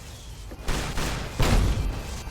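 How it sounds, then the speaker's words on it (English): A booming explosion in the video game Fallout: New Vegas, two heavy muffled blasts in quick succession with rumbling low-end, fairly loud with no voices. "Oh, that's an explosion"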